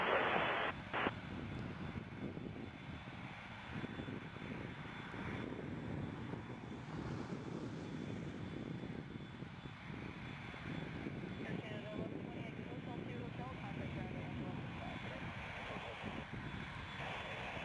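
Airliner taking off from a runway at Toronto airport, heard as a steady distant jet engine roar with wind noise. A radio voice talks over it.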